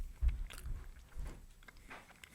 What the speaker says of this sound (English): I don't want to be this guy that's like chewing into a microphone.